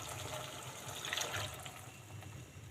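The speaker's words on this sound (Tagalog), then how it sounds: "lagyan natin ng tubig" Tap water runs into a cooking pot for sardines with miswa noodles, a soft continuous splashing pour that stays fairly quiet and steady throughout.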